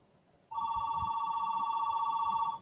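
A landline telephone rings loudly and steadily for about two seconds, a bright electronic trill with a fast warble, close by over a faint room hum of an air conditioner and fan.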